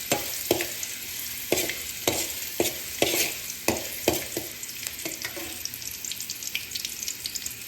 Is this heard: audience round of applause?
no